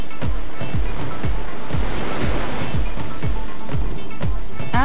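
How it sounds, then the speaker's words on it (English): High-pressure water jets at 160 bar blast mill scale off steel in a rolling mill: a loud, continuous roaring hiss with regular low thumps pulsing underneath. "In order to cleanse the surface, water is sprayed at high pressure"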